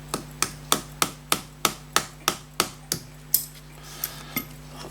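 A small hammer taps a pin off a vintage fusee pocket watch, giving about a dozen sharp, evenly spaced metallic knocks up close, slowing and fading toward the end over a steady low hum.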